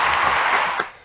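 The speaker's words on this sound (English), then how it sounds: "give us a round of applause" A short burst of applause, dense hand clapping filling about a second before tapering off, loud and close with no talk over it.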